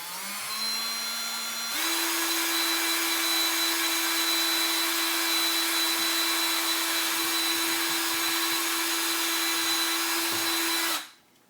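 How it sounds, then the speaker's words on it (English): Power drill boring a hole through a wooden cabinet door, a steady high whine after a brief slower spin-up, held evenly for several seconds before cutting off. "now I'm going to go ahead and drill my hole"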